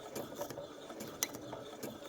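A Janome sewing machine runs with a faint, rapid mechanical ticking and whirring, a quiet repetitive clatter of its moving parts close by.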